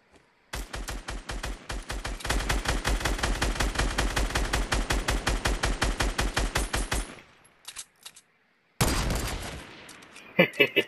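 Rapid automatic gunfire from the video game Fortnite, a long sustained burst of evenly spaced loud shots that stops, then a second heavy burst resumes after a short pause, with a few scattered shots at the end.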